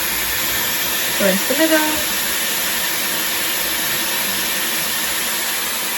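A Dyson Airwrap hair styler runs as a steady airflow whir throughout, used on a small section of damp hair, with someone talking briefly over the constant drone.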